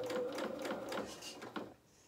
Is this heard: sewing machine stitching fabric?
yes